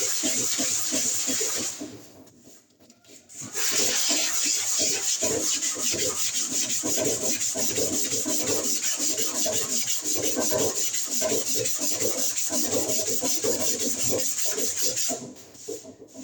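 Filler putty is rubbed down with a sanding block in steady, rhythmic back-and-forth strokes. A brief pause comes early, then the close, gritty scraping runs continuously without talk.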